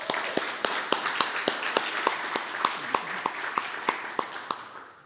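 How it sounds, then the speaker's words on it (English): An audience claps at a members' evening event at the Frye Museum, with a few distinct, evenly spaced claps standing out above a soft, scattered background of hands, fairly close and moderate in level. "I think we owe a round of applause to Jan Levy for leading all of this."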